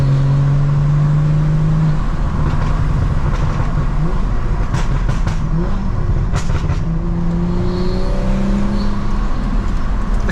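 A BMW M240i accelerating hard after a sluggish gear change, its engine note loud and close inside the cabin, climbing in pitch, dropping at a shift, then rising again, with no speech.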